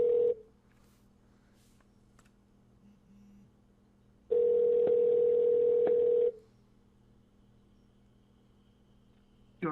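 Telephone tones sound during a prank call: a short tone opens, silence follows, then a loud steady two-second tone returns before fading to a quiet line hiss.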